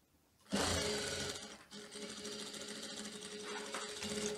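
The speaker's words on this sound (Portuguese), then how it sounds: "fechar a costura dos dois ombros. Um centímetro de margem de costura. Nós vamos arrematar no início." Close, steady whirring of a sewing machine stitching the shoulder seams of a teddy coat, starting abruptly after a quiet moment and running continuously with a brief dip midway.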